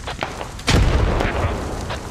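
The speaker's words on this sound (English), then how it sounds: "Grenade comes towards this direction though." A loud, close grenade explosion in the tactical shooter SquadOps booms suddenly and rumbles on for over a second as it decays, with faint earlier pops in the background.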